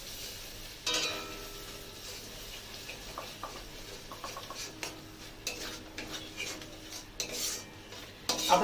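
Cashew, sesame and white poppy seed paste goes into a pan for a milky pointed gourd curry and is stirred, giving soft scraping and clinking of a utensil against the pan with a few sharper knocks, near and fairly quiet with no talking.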